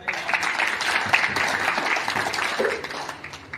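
Audience applause greeting Shri Mukesh Tyagi at a Hindu Mahasabha gathering: a steady, dense wash of clapping from a crowd, fairly loud and continuous throughout, with no speech over it.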